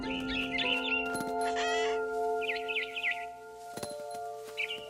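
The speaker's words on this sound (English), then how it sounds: "Then I heard chirping outside my window. It was a barn swallow going back to her nest." A barn swallow chirps in short bright bursts near a window in the game What Remains of Edith Finch, the calls spaced apart over soft ambient tones and a few clicks.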